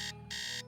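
A steady pulsing electronic alarm from Nancy Drew: Secret of the Scarlet Hand sounds as two short high-pitched beeps over a faint hum, clear and close.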